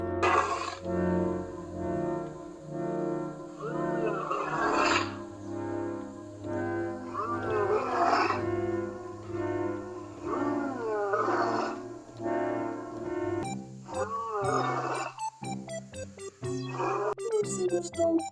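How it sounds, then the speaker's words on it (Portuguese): A lion roars close and loud in a long series of deep, rumbling calls, ending in a run of shorter, rhythmic grunting roars, with no voices. "Esse aqui é o verdadeiro som do leão."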